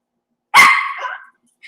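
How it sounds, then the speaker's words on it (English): A single loud, close bark from a dog breaks a silence during a church service, ringing briefly before fading, followed by a faint trailing squeak. "sorry everybody, the dog is here."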